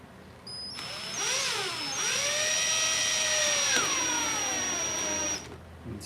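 A power drill bores mounting holes in wood near a JK BMS battery management board, its whining motor rising and dipping in pitch through one sustained run of about five seconds, loud and close with no talking.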